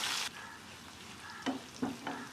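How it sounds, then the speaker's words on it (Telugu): Onions and curry leaves fry in a pan, giving a soft, steady sizzle with a few brief stirring scrapes, faint and close, without any talking. "మనకి ఎర్రగడ్డ కొద్దిగా మెత్తబడేంత వరకు వేసుకోవాలి"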